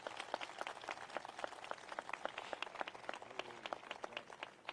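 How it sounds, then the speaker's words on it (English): An audience at a Capitol Christmas tree event claps in thanks, a lively crisp patter of many hands heard fairly near and on its own, without talk. "We need to give him a round of applause and say thank you."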